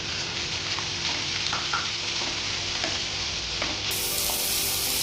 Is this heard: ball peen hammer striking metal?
no